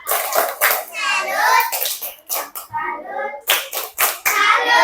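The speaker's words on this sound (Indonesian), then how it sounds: "Ayo, tepuk salut." Children in a classroom chant together in a rhythmic sing-song, punctuating it with sharp, loud claps close by.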